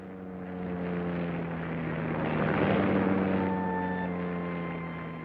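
A B-24 and a P-38 propeller aircraft accelerate down a runway for takeoff, their engines droning steadily as a tonal hum that swells louder toward the middle, then eases as they pull away.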